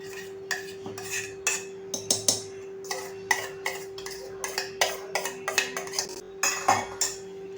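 A spoon scrapes and clinks against a metal pot while custard apple pulp is stirred into thick rabdi, with repeated sharp taps in an uneven rhythm over a steady low hum.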